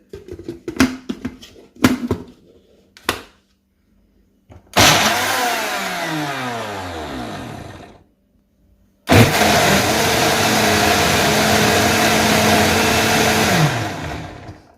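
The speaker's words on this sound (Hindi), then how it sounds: "हरी मिर्च जो हमने काटी हुई थी वो इसमें डाल देंगे, और इनको हम ब्लेंड कर लेंगे" A kitchen blender purees tomatoes and green chillies, first in several short, sharp pulses, then in two longer loud runs whose motor whine winds down audibly as each one stops.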